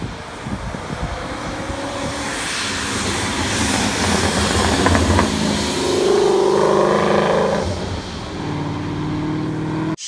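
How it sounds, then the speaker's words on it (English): Boosted 2022 Ford Mustang GT driving past with a loud, sustained engine roar and rushing whoosh as it comes off the throttle and decelerates, wind noise over the whole pass. "They got that blow-off valve, and anytime you're off the gas and decelling, it's going to blow off"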